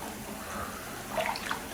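Warm water in a bathtub, sloshing and trickling softly at close range, with a few brighter splashy drips near the end.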